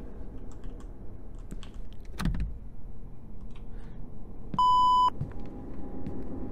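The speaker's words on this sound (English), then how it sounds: "walking through the metal detector and it beeps" A metal detector in the game Jawbreaker gives a single steady electronic beep as someone walks through, over a low room rumble and faint clicks.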